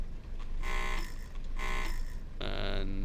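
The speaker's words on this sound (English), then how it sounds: "Get the buzzer going." Door-closing buzzer in the cab of a Class 101 diesel multiple unit train sounds three times in short bursts with small gaps between them, loud and close over a steady low diesel engine hum.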